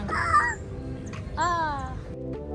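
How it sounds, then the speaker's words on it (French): Several birds call in a garden on Réunion island, giving harsh, honking cries in short bursts close by. "Vous entendez les oiseaux, c'est magnifique."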